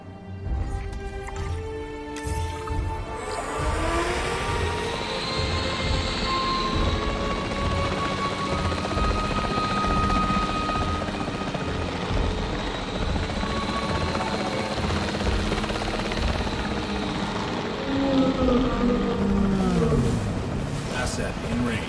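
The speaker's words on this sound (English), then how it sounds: "The priority needs to be tranquilizing it with the capture team chopper." Capture team helicopter in the video game Jurassic World Evolution 3, its rotor drone holding steady for most of the stretch beneath game music and effects, with voices talking over it and a dinosaur roar near the end.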